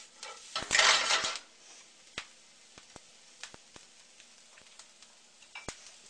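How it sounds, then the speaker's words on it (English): Bell pepper and chopped kale tossed in a stir-fry pan: a burst of rattling and sizzling up front, then scattered sharp clinks of utensil against pan over a faint background. "So we're going to add some bell pepper, some chopped kale, and we'll give that a little toss."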